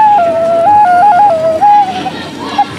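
A Kargopol clay whistle is blown in short, stepped pitched tones that shift up and down between a few notes, fairly loud over a murmuring crowd backdrop at an outdoor craft fair.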